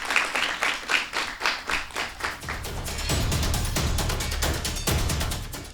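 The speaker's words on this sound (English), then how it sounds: "They deserve a clap for that," Audience clapping at a primary school debate, first a rhythmic unison clap of distinct beats, then breaking into a denser, continuous round of applause, fairly close.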